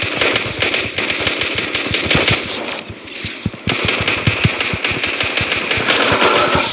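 Pistol gunfire in the video game Fortnite, a rapid, steady run of loud shots close up, continuing almost without pause with a brief dip midway, no voices over it.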